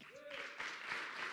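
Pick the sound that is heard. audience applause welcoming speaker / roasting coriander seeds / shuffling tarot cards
audience applause welcoming speaker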